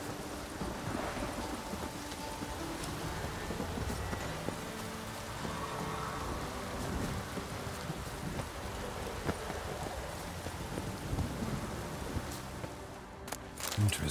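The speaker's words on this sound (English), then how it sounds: "A storm, damn it." Storm ambience in Witcher 3, steady rain hissing on surfaces with low rumbles of thunder rolling through, continuous and moderately loud for the whole stretch.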